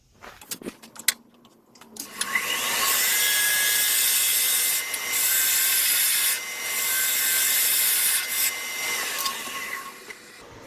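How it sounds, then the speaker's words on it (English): A parting tool cuts into wood spinning on a lathe, giving a loud, sustained high scraping hiss for several seconds that briefly dips and resumes, after a few scattered knocks at the start. "we're going to use a parting tool to take that wood down"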